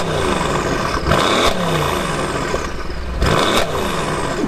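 A Mercedes C63 AMG V8 revs loudly close by, its dense engine roar swelling in two sharp bursts of throttle between steadier rumbling idle, with no voices.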